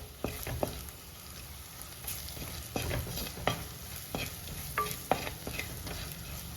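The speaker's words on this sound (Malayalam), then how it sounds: "ഇതെല്ലാം കൂടെ നന്നായിട്ടൊന്ന് ഇളക്കി കൊടുക്കുക." Cassava mezhukkupuratti stirred in a frying pan, with scraping spoon strokes and clatter over a steady frying sizzle, close and continuous with no talk.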